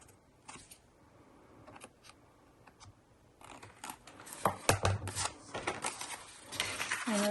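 Sharp scissor snips cutting paper for a junk journal tag, a few sparse clicks early, then a quicker run of close cuts and paper rustling toward the end.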